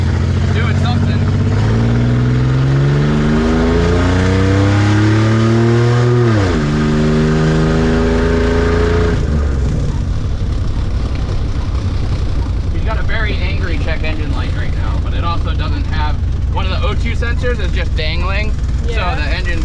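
A Toyota 4Runner SUV engine revs hard, its pitch sweeping up and down in loud waves, then settles into a rough roar with clattering noise and occasional voices; the engine is over-fuelling because of a faulty near-empty fuel reading.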